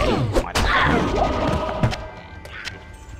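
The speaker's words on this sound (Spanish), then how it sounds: "Explosión de cadáveres." The corpse explosion spell in the video game Diablo 2 bursts as a series of muffled crashing thuds, loud at first and then fading over a few seconds.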